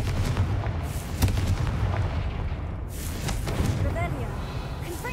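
Confringo blasting spells burst in Hogwarts Legacy, a dense run of loud booming explosions with sharp thuds near the middle and rumbling aftermath throughout, fiery crackle over steady low game noise.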